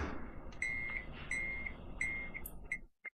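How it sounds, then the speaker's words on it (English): Electronic beeping from a desk, a run of short, evenly spaced high-pitched tones repeating in a steady rhythm over faint room noise, ending with one last brief chirp. "My desk was beeping at me."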